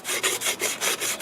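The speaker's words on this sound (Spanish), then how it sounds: "Agarran la lija, se la pasan alrededor" Sandpaper rubbed back and forth around a car engine part, a close, steady rasping scrape in about six even strokes with no talking.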